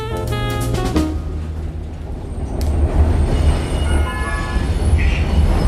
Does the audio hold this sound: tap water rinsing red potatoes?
no